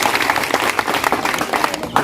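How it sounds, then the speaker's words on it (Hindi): A crowd at a village public rally in Katehari, Ambedkar Nagar, keeps up continuous, close applause, a dense rattle of many hands with no pause. "जोरदार ताली बजाइए इनके नाम पर"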